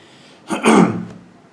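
A single sharp, breathy cough bursts out close by, then fades quickly into quiet.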